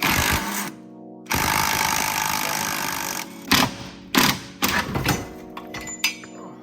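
Bolts being undone to free a rusty, corroded subframe from a Mini: bursts of harsh mechanical rattling and impact-tool clatter alternate with pauses and short sharp knocks, fairly close.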